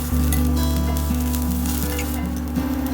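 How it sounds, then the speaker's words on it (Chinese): Minced garlic, shredded ginger and dried chilies stir-fried in hot oil in a wok, giving a loud, steady sizzle with a spatula scraping now and then, close up and with no talk. "油热后放蒜末和姜丝爆香，再放干辣椒下去炒香"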